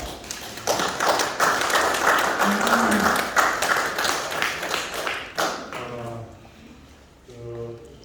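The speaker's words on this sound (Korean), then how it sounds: "우리 이영화 형님 나오실 때 박수 부탁드립니다" Guests at an opening ceremony for a logistics centre applaud as a man comes forward, a dense patter of clapping for several seconds that thins out while a voice speaks near the end.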